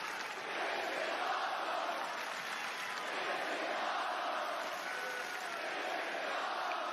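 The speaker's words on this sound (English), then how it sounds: "I heard the crowd as soon as this song hit." A packed WWE Raw arena crowd roars continuously as an entrance song hits, a dense, sustained wall of cheering that stays loud and even throughout without a break.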